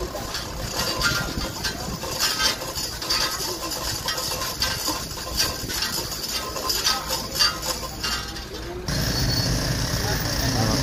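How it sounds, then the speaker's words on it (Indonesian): A chain hoist ratchets in repeated metallic clicks while pulling an overturned minibus upright after a roadside accident, with steady traffic and crowd noise around it and people talking nearby. "Kembali dicoba ditarik menggunakan takel."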